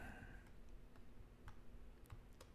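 Typing on a computer keyboard gives sparse, faint, evenly spaced key clicks over a low steady background hum, with no talk.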